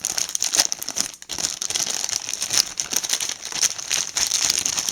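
Packaging of a new HTC Touch XL phone and its unopened documentation being unwrapped up close, a continuous crinkling and rustling of plastic and paper with a few sharper crackles and no talking.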